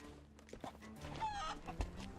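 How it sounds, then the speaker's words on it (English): Soft, faint chicken clucks from the video game Sea of Thieves come in short bursts over a quiet background, with a brief squawk-like chirp in the middle. "Chickens are my favorite to fetch as they do not require any maintenance."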